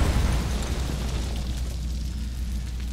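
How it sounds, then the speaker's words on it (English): Explosion of a thrown object in FEAR 2 hospital level, a heavy low boom at the start trailing into a long rumbling roar of debris that fades slowly. "There are certain areas and things that will explode when hit."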